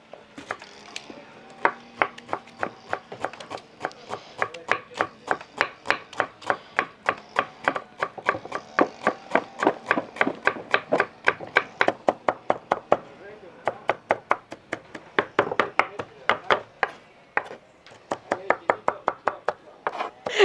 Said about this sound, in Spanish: Voy a picar la cebolla.